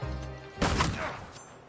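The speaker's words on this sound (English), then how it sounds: "And now my friend is going to attack, but he's going to shoot." Gunshot effects from a turn-based video game, a short burst of loud, sharp blasts that rings out and fades over about a second.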